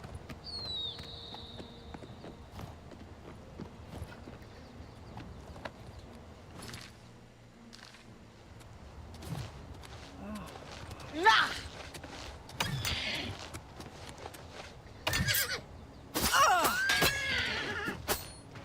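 Horse in the video game Oblivion Remastered, with a few sharp whinnies and neighs rising over soft clip-clopping hooves and low game ambience, the neighs bunched in the second half.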